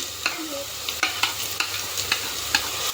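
Shallots and spices sauté in a pan with a close, constant sizzle, and a spoon scrapes and knocks against the pan about every half second in a loose rhythm.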